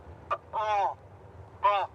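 Recorded cormorant distress call broadcast over a loudspeaker at an airport to scare birds: three harsh, croaking bird cries, one short and two longer, loud and near, with no talking.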